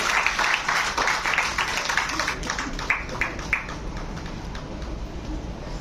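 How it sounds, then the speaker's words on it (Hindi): An audience at a formal organizational event in India applauds to welcome guests, a dense burst of clapping that gradually thins into scattered, distinct claps over several seconds. "जोरदार तालियों से स्वागत कीजिए"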